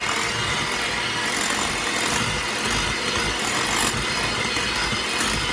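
Electric mixer creaming room-temperature cream cheese spread on medium speed for an orange creamsicle pie, a steady loud motor whir running continuously without pause.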